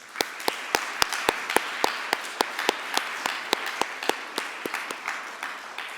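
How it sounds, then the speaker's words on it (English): A small audience at a distinguished alumni awards ceremony claps for the honorees, with sharp, distinct handclaps in a steady patter. "Let's give them a round of applause."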